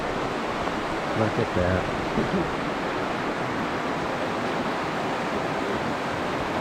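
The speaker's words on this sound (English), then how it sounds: "as you can probably hear, there's water right over here. We got a river coming down." A river coming down near Byron Glacier in Alaska, a continuous broadband rush of flowing water heard close by, with a brief spoken remark over it.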